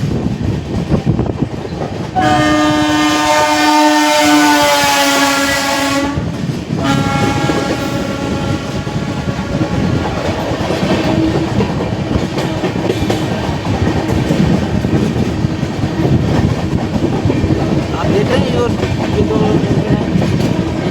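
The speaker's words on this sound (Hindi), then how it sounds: "एक तरह से हमारी train Kanpur central bypass line गुजरेगी और गोविंदपुरी जाती है" An Indian Railways train runs on the Kanpur Central bypass line toward Govindpuri. A loud horn blast sounds twice, then wheels keep up a steady, close rumble and clatter over the rails.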